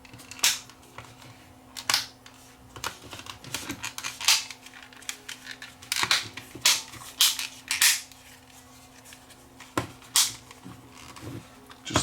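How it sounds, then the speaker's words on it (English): Plastic battery cover and housing of a Yamaha RAV1400 TV remote snapping and clicking together, a series of sharp, close clicks and taps spread irregularly over several seconds with no talking. "line up the battery cover with the terminals, and the remote should just snap together"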